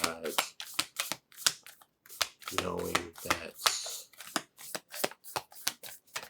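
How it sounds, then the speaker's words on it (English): Tarot cards from a Sufi Tarot deck are shuffled up close in quick repeated riffling bursts, crisp and rhythmic, with a voice speaking briefly between them. "so let me just do a quick shuffle"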